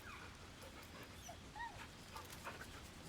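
A dog in the video game Baldur's Gate 3 whimpers softly while being petted, giving faint high whines and small yips over a quiet background.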